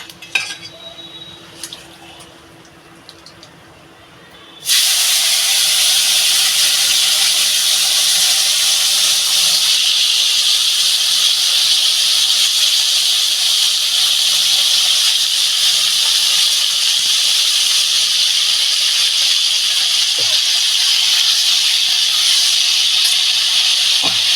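Cut ridge gourd goes into a hot pan for a rohu fish curry: after a few quiet clinks of utensils, a sudden loud sizzle erupts and settles into a continuous strong hiss.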